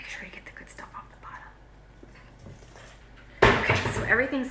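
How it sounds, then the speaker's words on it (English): A utensil stirs brownie batter in a mixing bowl, with soft scraping at first, then loud, close clattering and scraping against the bowl. Hushed speech is faintly heard underneath. "we're gonna stir it up really good"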